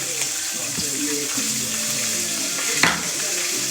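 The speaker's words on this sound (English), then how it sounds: "As you can see, my liver is cooking. Try to ignore the loud sounds of it." Steady sizzling and crackling of liver frying in a hot pan, loud and continuous, with a brief sharper pop near the end.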